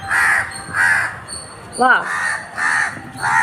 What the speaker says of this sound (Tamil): இதிலே தாங்க 2 காக்கா உட்காந்துருப்பாங்க